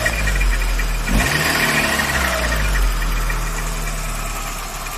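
Volkswagen Saveiro G4 with an AP 1.6 engine runs steadily with a knocking, vibrating mechanical noise, a continuous close idle drone with a brief surge near the start.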